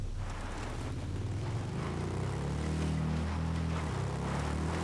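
Motorcycle engine in the video game Ghost Recon Breakpoint, a steady low droning rumble with shifting pitch as the bike revs and moves, continuous and fairly close with no talking.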